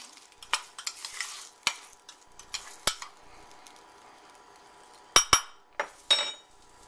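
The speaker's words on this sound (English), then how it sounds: "And then what you'll do is you'll stir that up." A spoon stirs a dipping sauce for white-cut chicken in a home kitchen, giving soft scraping swirls and a few sharp clinks against the dish near the end, close and fairly quiet, with no talking.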